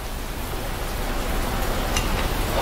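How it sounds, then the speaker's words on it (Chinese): Heavy rain pours down in a steady, broadband wash of noise that thickens slightly over time, with a few sharper drops spattering near the end and no voices. "这雨越下越大了"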